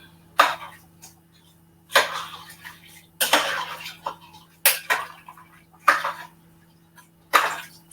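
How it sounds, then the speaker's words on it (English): A spoon knocks and scrapes around a cooking pot in slow, separate strokes, each a sharp close clank that fades quickly, with quiet pauses between and no voices. "My spoon, stir it up."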